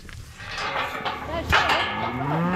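A cow moos loudly and long, close by, while being loaded into a livestock trailer on an Alaska farm, with low rumbling handling noise around it.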